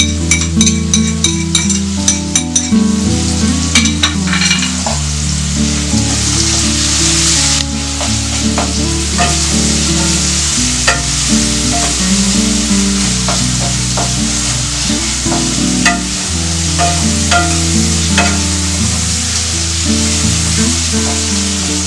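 Cumin, coriander and chili frying in oil for a vegetable torkari, a loud continuous crackling sizzle with scattered pops close by, steady throughout with no talking.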